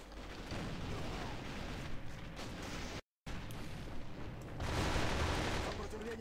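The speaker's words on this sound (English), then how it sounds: "Someone shot." Gunfire in the online shooter Alliance of Valiant Arms: dense, loud bursts of shots and blasts run almost continuously, broken by one short gap, then swell louder near the end.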